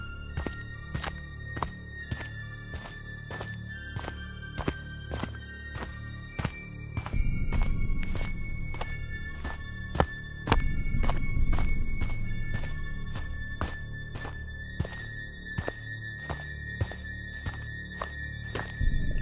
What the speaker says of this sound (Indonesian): suara pintu terbuka dan langkah kaki mendekati kembali terdengar